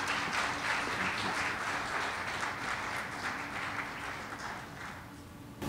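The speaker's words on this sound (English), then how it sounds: "we applaud you" Guests at a sister city signing ceremony between Accra and Columbus clap together in a broad, steady round of applause that fills the room, then tapers slightly toward the end.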